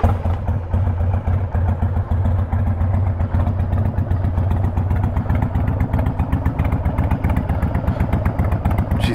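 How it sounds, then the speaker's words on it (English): Harley-Davidson Sportster 1250 motorcycle idling close by, a steady deep lumpy engine rumble with a rhythmic throb and mechanical clatter, continuous and loud with no talking; the starting itself is not evident. "All right, let's get you some startup sounds here."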